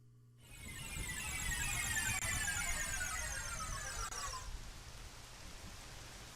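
Steady rain hisses outside the water temple at Lake Hylia in The Legend of Zelda: Ocarina of Time, starting abruptly, holding a dense wash of falling drops, then thinning toward the end.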